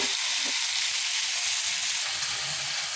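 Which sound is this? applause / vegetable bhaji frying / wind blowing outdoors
vegetable bhaji frying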